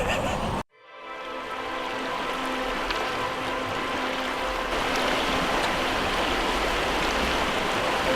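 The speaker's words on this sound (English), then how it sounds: "It's the fastest flowing of any New Zealand river" Fast-flowing water of the Clutha River on New Zealand's South Island rushes in a steady, loud broadband roar, starting abruptly after a brief silence and continuing unbroken with no voices.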